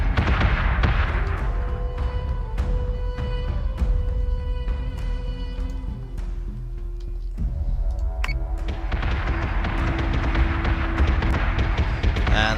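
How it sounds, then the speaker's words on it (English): Spaceship cannons firing in the Battlestar Galactica video game, the Daedalus pounding a hostile ship: rapid booming blasts with ringing tonal tails, loud and continuous, with a short lull midway before the barrage resumes. "And the Daedalus' cannons are helping out as well."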